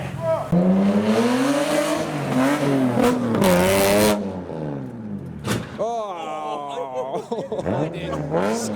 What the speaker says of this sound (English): The Ignis is still revving